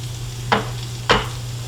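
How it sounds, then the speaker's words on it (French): Onions cook in a pan under a constant low hum, with two short scraping stir sounds about half a second apart and a faint sizzle beneath them. "je vais laisser un peu passer de temps par la suite, histoire que mes oignons s'affaissent un peu."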